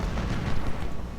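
Dense gunfire and artillery rumble in the Ultimate General: Civil War video game, a continuous low thundering barrage of overlapping booms and shots.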